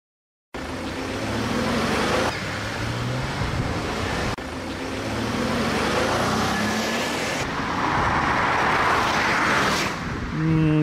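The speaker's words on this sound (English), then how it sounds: "The drag race is between my Hyundai XG and a Volvo V40 D4." A 2005 Hyundai XG350 drag racing a Volvo V40 D4, heard as steady, fairly loud road and engine rumble with wind noise, holding constant for several seconds after a brief silence.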